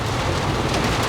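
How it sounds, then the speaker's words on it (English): Steady rain falls outdoors in tropical Kuala Lumpur, a dense, even hiss with close patter on surfaces and a low rumble beneath, continuous and fairly loud throughout, with no talk. "It's raining."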